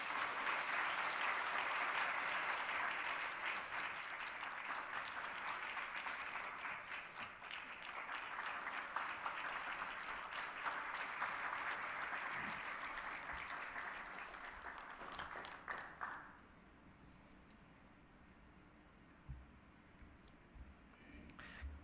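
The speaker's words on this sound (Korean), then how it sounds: "우리 큰 박수로 축하해 주시기 바랍니다" A church congregation breaks into loud, sustained applause during a Sunday service, a dense wash of clapping that holds steady for about fifteen seconds before stopping abruptly, leaving a quiet room with a few faint stray sounds.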